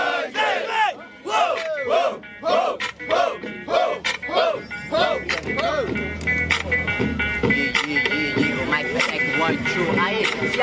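Rap battle audience at the 110th Batalha do Atlântica in Jardim Camburi, Espírito Santo, shouting back in rhythmic bursts with a crowd call-and-response and a battle-cry roar, followed by a denser wash of crowd noise.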